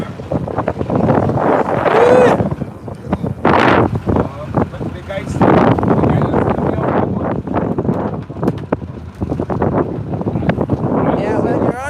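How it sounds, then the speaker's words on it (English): Boat motor running out on open water during sea turtle research, a steady loud drone overlaid with heavy wind buffeting the microphone, with people talking over it throughout. "The engine is loud at the bottom here."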